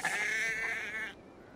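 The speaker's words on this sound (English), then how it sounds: "Feed the sheep and see what comes out." Sheep bleating in the video game Assassin's Creed Valhalla: one close, wavering bleat that holds steady for about a second, then cuts off abruptly into quiet.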